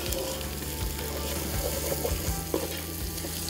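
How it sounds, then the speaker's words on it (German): Spices and other ingredients for aloo kofta, a Pakistani meatball and potato stew, sizzle and fry steadily in a pan, with stirring scrapes and a few clinks throughout, close and continuous. "Und das wird dann alles schön rundherum angebraten."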